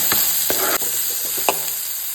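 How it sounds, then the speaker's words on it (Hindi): Onions fry in a pan with cumin, mustard seeds, asafoetida and curry leaves, giving a soft sizzle broken by several sharp stirring scrapes of a spoon, close by and with no talking. "हमारा ओनियन जो है वो अच्छे से फ्राई हो चुका है।"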